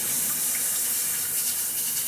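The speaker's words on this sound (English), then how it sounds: "you want to put a little bit in a strainer, and you want to put it on cold water, and you just want to wash out" Cold tap water runs over jasmine rice in a strainer, a loud, close, even hiss of flowing water that holds steady throughout with no talking.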